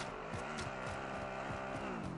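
A car engine close by in Warzone gives a continuous revving, throaty drone with rising and falling pitch sweeps, steady and fairly loud throughout.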